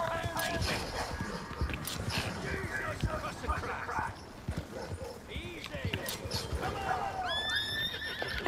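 A horse in the video game Red Dead Redemption 2 whinnies amid clip-clopping hooves and other game sounds, moderately loud, while players talk over the action.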